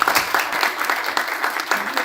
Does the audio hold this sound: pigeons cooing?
no